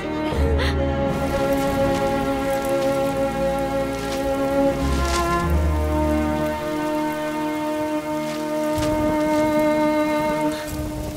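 Steady rain falls continuously outdoors, a dense even patter on surfaces, with a sustained tonal music bed playing over it throughout.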